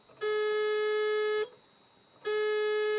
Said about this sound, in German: beim Chef ertönt der Summer